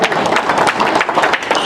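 Short burst of audience applause at a Friends of The Bard event, steady dense clapping from a crowd throughout, fairly loud and close.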